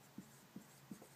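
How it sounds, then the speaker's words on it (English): Hand writing on a surface, three soft, close pen strokes tapping out in an even rhythm, quiet and alone with no talk. "So I'm just going to simply write"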